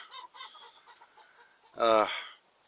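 A loud burst of chicken clucking and squawking rises near the end, after a stretch of quieter, softer background noise.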